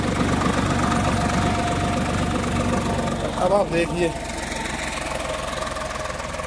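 A Swaraj 855 4x4 tractor, 2024 model, pulls a cultivator through a field with four-wheel drive switched off, its steady mid-range engine drone running loud and close throughout while someone speaks briefly partway through.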